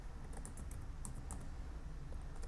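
Steady, fast typing on a computer keyboard, with light clicking keystrokes close by over a constant low hum.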